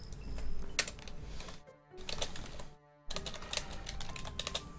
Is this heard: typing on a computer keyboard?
yes